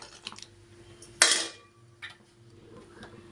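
Potato pieces dropped into a pressure cooker pot while cooking sambar: a clattering metallic rush of chunks hitting the pot, with lighter clinks of a utensil before and after, close and otherwise quiet.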